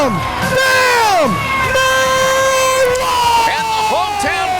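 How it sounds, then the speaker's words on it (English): A hometown wrestling crowd in Forney, Texas erupts after a new TSW heavyweight champion is crowned, loud sustained cheering and whooping that fills the room without letup. "the hometown crowd in Forney, Texas goes wild"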